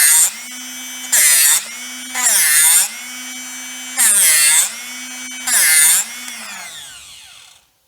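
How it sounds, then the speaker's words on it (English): A drill bit sharpener's motor hums steadily while five bursts of harsh, high grinding on a drill bit rise and fall at an even pace, close and loud, before the motor winds down. "grind it till that tip is gone"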